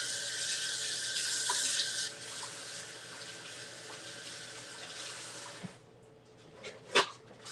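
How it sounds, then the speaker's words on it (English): Hands washed under a running kitchen tap, a steady hiss of flowing water for several seconds that then stops, followed by a few clinks and a louder knock nearby. "Let me wash my hands again."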